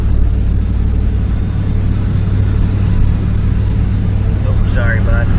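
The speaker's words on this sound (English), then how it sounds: "Still in high gear, lugging it up the mountain." A 1988 Chevy K2500 truck engine lugs uphill in high gear, a loud steady low rumble droning throughout with no letup, heard from inside the cab.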